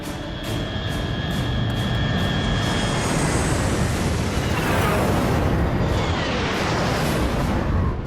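A MiG-29 fighter jet flying in an action-movie scene, heard as a continuous loud jet roar with rising whooshing tones, no talk.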